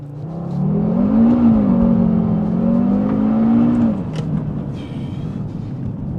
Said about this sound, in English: I'll do another quick launch just so you guys can hear it.